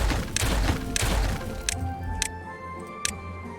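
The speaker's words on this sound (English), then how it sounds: "Now we will detonate the top off of that." Dynamite detonations in Timberborn, a loud rumbling blast with heavy low thuds followed by several sharp cracking impacts that fade into quieter debris clicks.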